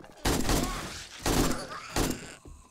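Three loud bursts of gunfire in the zombie survival game 7 Days To Die, each a sharp blast with a decaying tail, spaced roughly a second apart, with faint talk in between.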